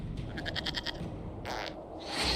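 A goat in Dragon Age Inquisition bleats in a glitched burst of rapid, stuttering repeated pulses, then a second short bleat follows, loud and close over a low game ambience.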